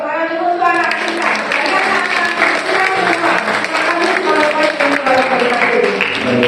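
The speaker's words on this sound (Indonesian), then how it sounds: "Kita harus beri tepuk tangan dulu untuk anak kita." An audience at a vocational culinary school's practical exam event applauds the students with a steady wash of clapping, while a voice talks over it.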